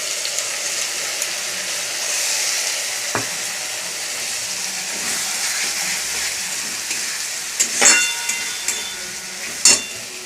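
Onion, chili and tomato paste fry in hot oil with a steady, close sizzling hiss, broken by a few sharp stirring scrapes toward the end.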